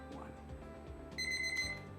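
An oven timer beeps while vanilla cupcakes finish baking, giving a steady, shrill electronic alarm that sounds out close by for about half a second under faint background noise.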